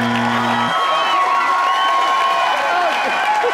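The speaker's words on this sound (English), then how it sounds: "Please give them a round of applause, ladies and gentlemen." Cheering and clapping from a TV studio audience, loud and continuous and filling the whole stretch, with a steady tone under the crowd noise.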